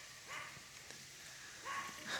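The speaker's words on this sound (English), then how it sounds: "And then Thunder keeps barking at them" Dog barking at a flock of crows outdoors, two or three faint, distant barks spaced apart over steady background hiss, with no talking.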